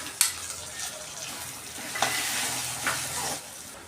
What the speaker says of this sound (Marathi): यामध्ये आता आपण बारीक कट केलेला टोमॅटो घालून घेऊ